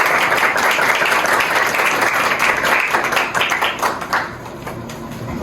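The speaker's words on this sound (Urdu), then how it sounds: "اور سب جوش تالیوں کے ساتھ اس کا استقبال کیجیے" A church congregation bursting into loud, dense applause, many hands clapping together in a sustained roar that thins slightly toward the end, with a few faint voices mixed in.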